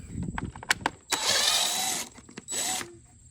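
Power driver with a Torx T25 bit backing out engine air filter screws: two short whirring bursts, close and moderately loud, mixed with clicks and handling noise.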